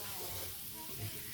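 Fish roe being stirred with spices in a hot pan, a faint, continuous hiss and sizzle with soft stirring sounds.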